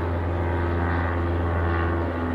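A propeller airplane drones steadily overhead at Cambridge railway station, a continuous low engine hum with no voices.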